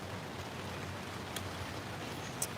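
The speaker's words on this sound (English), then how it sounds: "It's raining again." Rain falls steadily as a faint, even patter on surfaces, with a couple of brief sharper drips or taps breaking through the soft background hiss.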